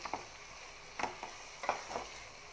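Chicken being stirred in a pan for a stir fry: a few short scraping, clattering stirs spaced irregularly, close and moderately quiet over a faint sizzle.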